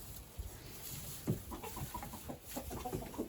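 Backyard hens settling in for the evening give soft, scattered clucks at close range, short low calls rising and falling over a faint outdoor hiss, with no talking.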